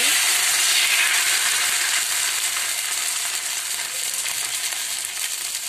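Ghavan rice batter sizzles on a hot pan over a low-to-medium flame, a loud, steady, bright hiss that fades slightly over several seconds with no talking.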